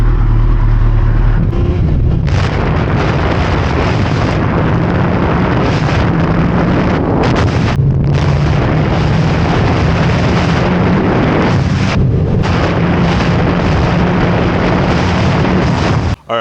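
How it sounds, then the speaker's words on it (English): Kawasaki Ninja ZX14R motorcycle engine roaring loud and close with steady wind buffeting, a brief lull near the start and short dips midway before cutting off abruptly at the end. "right here we have the Kawasaki Ninja ZX14R"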